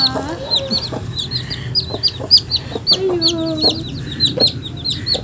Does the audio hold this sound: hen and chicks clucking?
yes